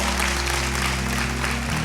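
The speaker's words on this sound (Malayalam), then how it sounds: "നല്ല കൈയടി" Audience applause at a quiz game show event in Thrissur, loud steady clapping throughout with a low hum running beneath it.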